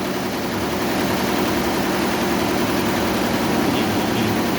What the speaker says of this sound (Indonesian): Mesin bordir komputer.